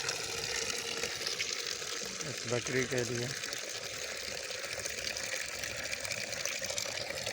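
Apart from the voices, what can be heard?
filling a container with water from a tap for a goat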